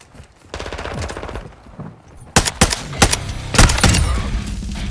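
Call of Duty gunfire: rapid automatic bursts of loud machine-gun fire, followed by a few sharp, heavy single shots close by.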